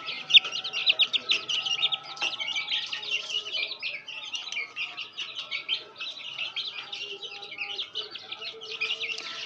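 Young chicks kept with a hen peep in rapid, high, continuous chirps close by, a busy, steady chatter of many small calls with faint background sounds.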